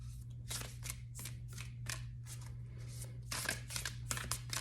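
Tarot cards shuffled close by hand, producing a string of crisp, rhythmic riffling bursts over a low steady hum, with no voices.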